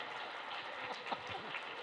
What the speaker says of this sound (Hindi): इसके लिए एक बार खड़े होकर और ताली।